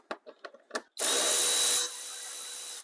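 A power driver runs on the intake tube clamp of a Chrysler 200 during a throttle body replacement: a few light clicks and taps, then a loud, steady whir that drops to a lower, continuing level.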